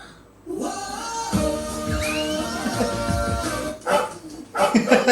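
A dog barks and yelps in a short, loud burst of sharp, uneven barks up close, with a voice briefly heard among them.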